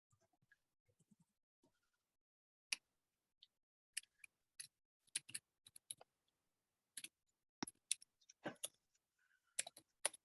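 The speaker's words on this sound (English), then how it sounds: "I can hear people typing," Sparse keyboard typing on computer keyboards during an online community workshop, with scattered short bursts of clicking keystrokes separated by pauses, faint and somewhat distant, no talking.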